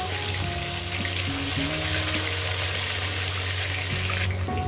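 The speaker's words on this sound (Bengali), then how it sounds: "বন্ধুরা এই মাছগুলো ভাজা হয়ে গেছে মাছগুলো তুলে" Katla fish pieces fry in hot oil, giving a steady, close, loud sizzle with crackling spatter throughout and a brief shift near the end.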